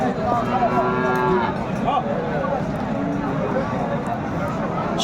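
Sahiwal cattle moo loudly nearby at a cattle market in Kurigram, a long low call followed by shorter ones, amid the murmur and chatter of a busy crowd.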